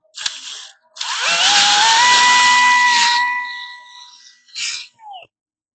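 A power drill bores a larger hole through a steel bracket on a Ford F250 truck during a leaf spring swap, a loud whining run of about two seconds after a short burst, with rising pitch, then brief bursts as it stops.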